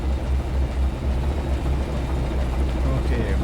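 AMD diesel locomotives idle in a Trainz 22 rail yard, a deep, throbbing low engine rumble pulsing steadily and close throughout, with no voices.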